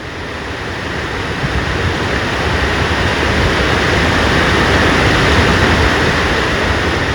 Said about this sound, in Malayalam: ഇതാണ് ആ മനോഹരമായ ദൃശ്യവും വെള്ളച്ചാട്ടവും